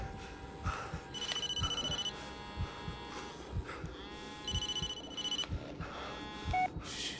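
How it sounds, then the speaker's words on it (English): A phone in the Blair Witch video game rings in repeated electronic trills, two clear bursts separated by a pause, moderately quiet over a rumbling backdrop of low thumps; no speech. "Phone."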